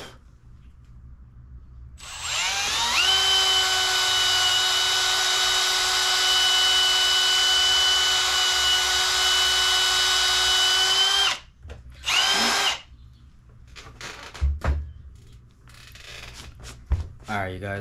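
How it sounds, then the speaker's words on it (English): A power drill whines steadily and loudly as it bores a hole through a DIY purge plug for welding, running about nine seconds at constant pitch before stopping, followed by a short second burst and handling clatter. "So now I have my hole drilled all the way through."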